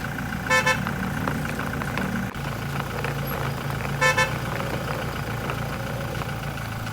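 A small delivery van, a school meal program vehicle, pulls out of a garage onto the road, its engine running steadily at low revs throughout, with two short bright horn toots near the start and again later.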